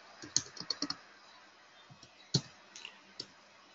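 Typing on a computer keyboard, with light irregular key clicks in small quick clusters and a sharper tap or two, close and quiet in an otherwise still room.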